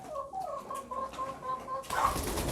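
Leghorn hens cluck and murmur in a coop at night, a run of soft, close, repeated calls that ends in a louder rustling burst.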